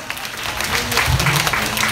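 A festival audience at an outdoor lotus festival claps in steady, dense applause, loud and close, with a voice mixed in over the clapping.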